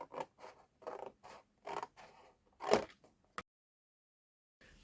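Scissors cut across paper along score lines while making a large pouch gift bag, giving several short, quiet snipping and crunching strokes in an irregular rhythm, followed by a louder final cut and then silence.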